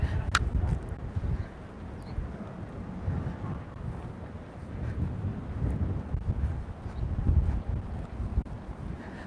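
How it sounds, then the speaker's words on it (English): Wind blows along the seafront between Cala Millor and Cala Bona in Majorca. The gusts are steady and rumbling and buffet the microphone throughout, with no one speaking. "You can feel that wind's coming in."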